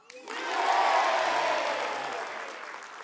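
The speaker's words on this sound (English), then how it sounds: "You're supposed to clap like this." An audience claps together in a single practice burst, a dense wash of hands that swells quickly and then slowly tapers off over a few seconds.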